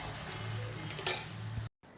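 Food fries in a pan beside chapati being made, a brief low sizzle with a single sharp clink partway through before it cuts to silence.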